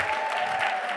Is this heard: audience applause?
yes